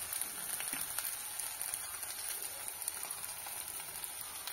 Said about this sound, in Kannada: ಇದು ಈರುಳ್ಳಿ ಫ್ರೈ ಆಗಿದೆ. ಇದಕ್ಕೆ ಒಣಗಿದ ಮೆಣಸಿನಕಾಯಿನ ಪೌಡರ್ ಮಾಡಿ ಸೇರಿಸ್ತಾ ಇದ್ದೇನೆ.